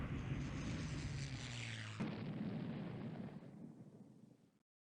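Explosive torpedo and heavy shell hits on warships and a transport in the naval strategy game Rule the Waves 2, a sustained roaring rumble of blasts with a sharp new impact partway through, fading away at the end.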